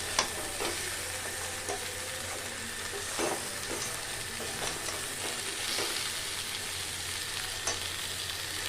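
Snake gourd sautés with spices in a pan for a Bengali sesame dish, a quiet continuous sizzle punctuated by repeated scraping strokes of a spatula, with no one speaking.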